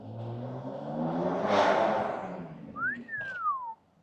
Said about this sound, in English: It is so much louder on the cold start now.